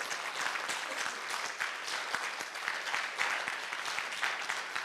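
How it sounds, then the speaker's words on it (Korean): An audience at a city mayor's special lecture claps together, a sustained, even wash of many hands heard at a moderate distance, with no talking over it. "지금 박수 치니까"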